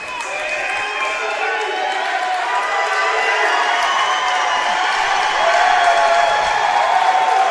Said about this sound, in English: Looks like the home crowd is cheering Garrett Stuckman on to try to get this energy going.